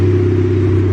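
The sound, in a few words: turbo Honda Civic engine starting up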